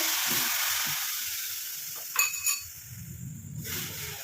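Flower juice is poured into heated oil, which gives a loud sizzling hiss that fades, then a couple of metal clinks and soft stirring sounds follow near the pan.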